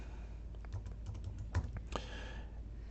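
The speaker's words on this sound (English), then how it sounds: "We'll type in our information that we observed here." Close keystrokes tapped on a computer keyboard while entering classroom observation notes, irregular clicks in short bursts with brief pauses, no talking.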